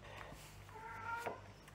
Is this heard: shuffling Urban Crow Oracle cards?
no